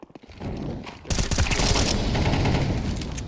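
Gunfire crackles in a competitive Counter-Strike match: a few sharp shots at first, then a dense, sustained volley of rapid shots that fills the rest of the clip.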